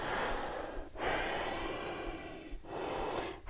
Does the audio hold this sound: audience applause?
no